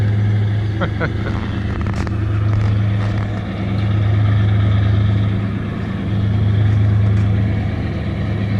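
A motorboat carrying a scooter on its back drones steadily close by on the C&D Canal, its low hum swelling and easing slightly as the boat moves across the water.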